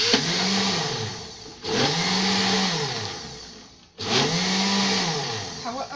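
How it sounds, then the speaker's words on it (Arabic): Electric mixer whirs steadily while beating date cake batter, rising and falling in three long sweeping cycles as the beaters move through the bowl, close and fairly loud with no talking. "هبدأ بقى دلوقتي ان انا اضرب الخليط ده كده مع بعضه."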